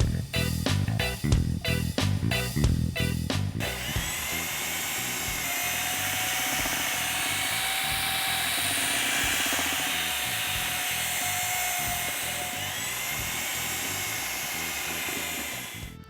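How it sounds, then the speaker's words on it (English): A drill mixer churns TEC Skill Set Total Flex tile mortar in a bucket with a steady, loud whirring drone that holds for about twelve seconds, preceded by a few seconds of knocking and clattering as the tool is set up. "So now we're going to mix the mortar following the manufacturer's instructions."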